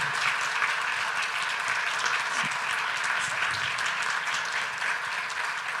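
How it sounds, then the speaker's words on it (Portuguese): A summit audience gives a steady, dense round of applause for the event organizers, continuous clapping lasting several seconds without a break. "Uma salva de palmas para eles, por favor."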